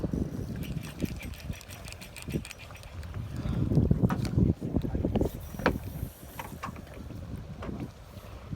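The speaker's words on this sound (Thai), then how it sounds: "โอ้ยลมก็แรง" Strong wind buffets a small boat at sea during coastal micro-jigging, a steady roar of gusts and water noise with scattered knocks and brief voices throughout.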